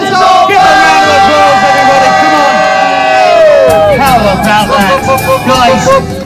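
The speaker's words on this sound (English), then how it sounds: "A round of applause, everybody, come on." A television talent-show audience on Britain's Got Talent cheers and shouts loudly, a dense roar of voices with whoops and rising yells rather than distinct clapping, close and continuous throughout.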